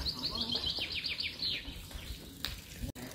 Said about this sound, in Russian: Птицы поют.